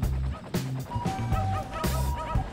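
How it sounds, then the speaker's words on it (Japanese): A dog in the city-building video game Cities: Skylines barks rapidly and repeatedly, a string of loud, close yapping barks with brief gaps between them. "犬がすごい勢いで吠えてます。"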